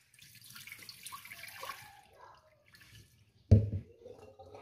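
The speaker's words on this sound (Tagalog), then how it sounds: "Lagyan natin ng tubig." Water runs from a tap into washed rice in a pot, with softer splashing and handling at first and then a sudden loud gush of pouring water near the end, close up and without talk.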